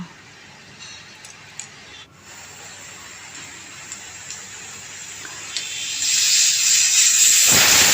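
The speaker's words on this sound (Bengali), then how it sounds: "আগে একটা সিটি হয়ে গেছে আবার একটা সিটি দিয়ে দিলাম" A pressure cooker on a stove, cooking bottle gourd, hisses steadily with escaping steam, then swells into a louder, brighter whistle near the end before cutting off.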